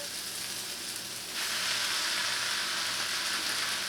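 Pasta for lo mein tossed into a hot wok, a loud, steady sizzle that swells and thickens partway through, close by and continuous with no talking.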